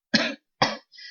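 Two quick, sharp coughs close up, followed by a brief raspy throat sound.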